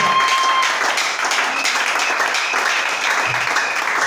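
A church congregation applauds in acclaim of the Lord, a dense, sustained roar of many hands clapping together at once, loud and continuous.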